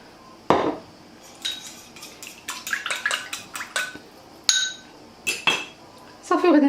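Kofta ingredients for a Turkish-style baked tray are mixed in a bowl with a spoon or utensil, producing irregular clinks, knocks and wet scraping sounds in short bursts, close by, with no voices.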